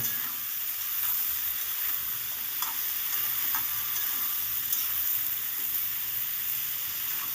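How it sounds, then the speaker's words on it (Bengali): Mixed vegetables with salt and turmeric frying in a pan, a constant close sizzle with occasional soft stirring scrapes, no talk. "ভালো করে নেড়ে চেড়ে একটু ভেজে নেব"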